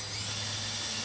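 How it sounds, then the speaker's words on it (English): A steady high-pitched whine of a power drill drilling into plastic in a car, running continuously, close by, with no pauses or voices. "Once you find your place where you're going to drill into the plastic"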